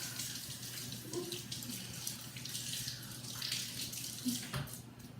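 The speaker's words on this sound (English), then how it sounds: "And wash my hands." Hands being washed under a running kitchen tap, a steady moderate rush of water with small splashes and shifts as the hands move through the stream.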